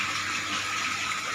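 Water runs from a tap into a blue tank, a steady close hiss and splash that holds constant throughout the short moment with no talk.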